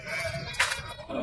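Goats bleat at the Annur goat market. One short, loud bleat rises near the middle over the steady murmur of the crowded livestock market.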